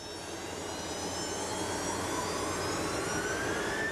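Inside the noisy cabin of an old, not very modern Soviet military plane in flight to Baikonur, a steady, loud engine roar and rushing drone fills the space without a break.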